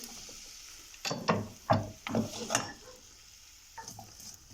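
Two thinly sliced potatoes frying in oil, with bursts of crackling and stirring scrapes close by, then a quieter steady sizzle.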